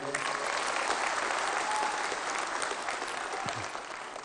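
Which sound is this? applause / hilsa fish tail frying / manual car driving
applause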